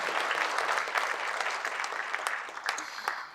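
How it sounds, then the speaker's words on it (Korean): A ceremony audience gives warm, sustained applause to seven children who recited the Universal Declaration of Human Rights at a 2024 Human Rights Day event, a dense, even wash of many hands clapping together without a break. "이 멋진 순간을 만들어준 어린이들에게 다시 한번 뜨거운 박수 부탁드리겠습니다"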